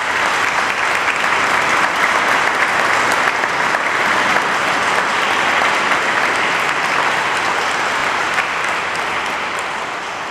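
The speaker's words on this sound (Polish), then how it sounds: "I teraz brawa dla wszystkich." Sustained applause from a congregation at a thanksgiving Mass in Łódź, a dense, steady wash of clapping that holds at full strength for about ten seconds before easing slightly at the end.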